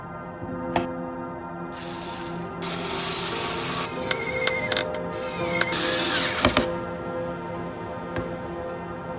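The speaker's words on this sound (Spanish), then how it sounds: "Atornillaremos este suplemento de madera con estos dos tornillos." Screws being driven into a wooden support block, a steady run of grinding, rubbing and ratcheting mechanical noise with a few sharp clicks, close and moderately loud.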